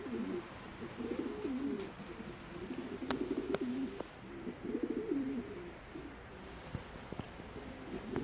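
Homing pigeons in a backyard coop coo softly and repeatedly in low, rolling phrases, with a few faint clicks and chirps in the quiet background.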